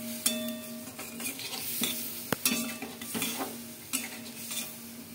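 Cumin and coriander powder stir-fried in a pan for a potol posto dish, with a steady soft sizzle, spatula scrapes and occasional clinks of metal against the pan, close and moderately quiet throughout.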